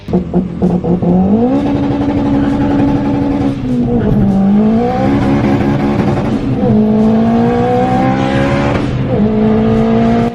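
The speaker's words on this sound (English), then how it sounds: "This is Aiden's 460 brake turboed FN2, and name another car you can drive like this." A turbocharged 460 bhp Honda Civic FN2 engine revs hard and close, its pitch climbing then dropping through quick gear changes, loud and aggressive throughout.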